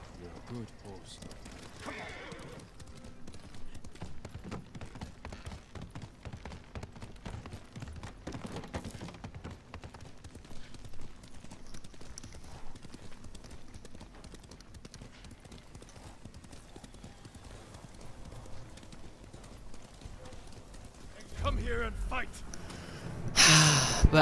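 Steady clip-clop of horse hooves trotting throughout in the video game Ghost of Tsushima, with a voice talking over it and a brief snort or whinny near the end.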